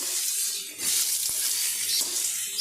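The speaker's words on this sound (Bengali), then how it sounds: "প্রথমে অল্প আলু দিয়ে একটু এভাবে ভেজে নেব" A small batch of potato pieces fries in oil in a kadai for crispy potato fry, giving a steady bright sizzling hiss with a brief clink partway through and no talking.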